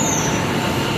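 A Delhi metro train arrives at a station with a loud, steady rumble of wheels on rails and a high, thin squeal over it, heard close and without talk.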